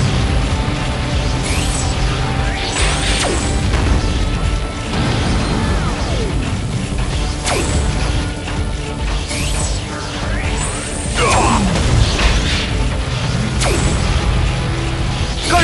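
Cartoon robot Morbot charging its cannon in a Transformers Rescue Bots animation: loud mechanical whirring and ratcheting with rising sweeps and metallic clanks and crashes, continuous throughout.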